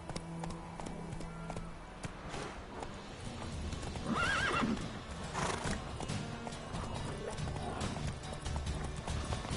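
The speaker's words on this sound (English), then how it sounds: "There you are, Rochi, who's a good horsey" Hooves pound steadily and a horse neighs in the fantasy video game The Witcher 3, a loud continuous gallop beneath a short spoken line.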